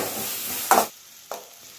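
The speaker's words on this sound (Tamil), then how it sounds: "இந்த எண்ணெயிலே இப்போ வெங்காயத்தை வதக்கிடுவோம்." Onions sautéing in oil in a pan for a vegetable chutney, with a steady broadband sizzle that thins out partway through, cut by two sharp scrape-like bursts from stirring.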